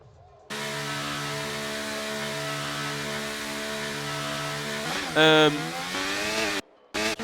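Formula-style race cars in a racing video game pull out of the pits on the Emilia Romagna circuit, their engines a sustained, even whine that then revs sharply up and down before the sound cuts off.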